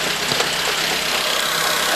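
A 1.4-litre Opel Corsa engine runs at high revs, close up and loud, with a steady, even, buzzing drone and a slight knocking texture throughout, no talk.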